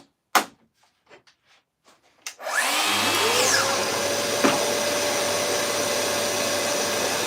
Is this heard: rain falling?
no